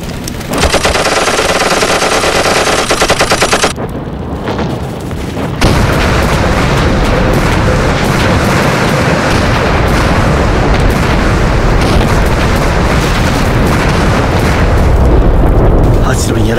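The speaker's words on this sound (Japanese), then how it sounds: "同志们，集中火力向弹药库射击。" Loud war-film battle with sustained automatic gunfire and booming blasts as an ammunition depot is shot up and explodes, a dense continuous roar after a brief pause, with voices shouting over the din.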